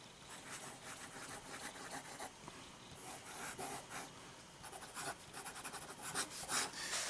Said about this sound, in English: And you can hear that feedback on this particular Rhodia pad with the nib.